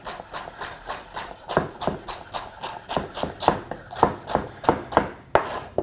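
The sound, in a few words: chopping celery into cubes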